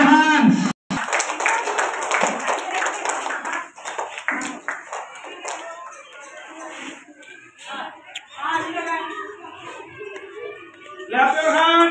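Audience at a school prize announcement claps hands in dense, continuous applause, loud and close, with a brief gap early and children's voices and talk mixed throughout.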